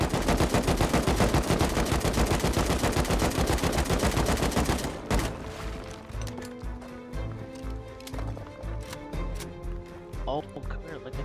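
Video game gunfire: a sustained rapid burst of automatic shots for several seconds, loud and continuous, then stopping, followed by scattered single shots and clanks at lower level.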